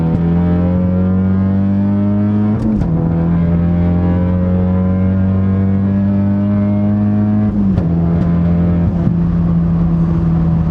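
A Ford Mustang with a V6 engine accelerates hard, its loud droning note climbing steadily and dropping briefly at two gear changes before pulling up again, close and sustained throughout.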